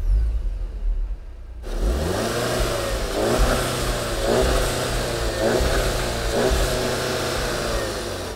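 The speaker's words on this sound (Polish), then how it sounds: "odpal silnik, zobaczymy jak to brzmi" A car engine fires up after a brief quiet start, settles into a steady mid-pitched run and is revved in several rising pulses; the car is nearly new, still being run in at about 2000 km.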